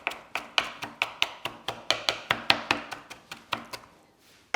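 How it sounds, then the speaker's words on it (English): A knife rough-chopping leaves for an Asian slaw on a board, about fifteen crisp, evenly spaced chops in a quick steady rhythm, close and clear, slowing and fading at the end. "So I'm just giving this a rough chop"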